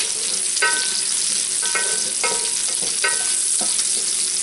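Bacon fries in a pan with a loud, close, continuous crackling sizzle, broken by several sharp scraping or stirring strokes at a fairly regular pace, with no talking.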